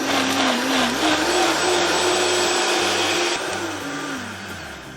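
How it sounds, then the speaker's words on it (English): A high-speed blender roars loudly and continuously while blending artichoke sauce until smooth, its motor pitch wavering as it churns, then easing slightly toward the end. "we're going to blend it until it's smooth"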